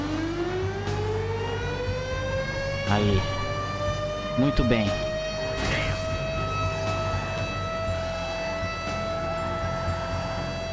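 A civil defense siren wails in GTA 5 during a tsunami, a long rising tone with strong harmonics, loud and sustained, while a player speaks briefly over it.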